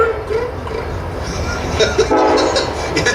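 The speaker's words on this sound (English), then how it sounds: "Yeah, train station." A train at a station, rumbling close by with a sustained horn-like tone and rolling rail noise, fairly loud and continuous.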